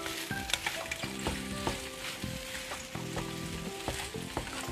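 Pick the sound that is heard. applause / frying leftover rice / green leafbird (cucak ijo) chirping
frying leftover rice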